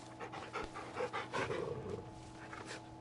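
Torgal, the wolfhound companion in Final Fantasy XVI, pants steadily in quick rhythmic breaths, fairly close and soft, alone without talk.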